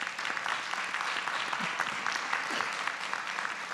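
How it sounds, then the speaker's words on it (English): Steady applause from an audience at a school board of education meeting, honoring two students; dense, even clapping holds throughout at moderate level with a faint voice or two beneath. "Let's give both of our students a big round of applause."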